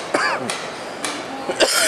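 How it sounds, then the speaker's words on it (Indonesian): A person coughs several times in short, harsh bursts spaced across the moment, close and fairly loud. "nunggu batuk dulu."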